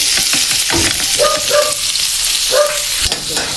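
Chili, ginger, onion and garlic frying together for laing, a loud, close, continuous sizzle with spatula knocks and scrapes as the mixture is stirred.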